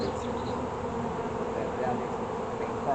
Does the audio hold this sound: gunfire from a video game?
no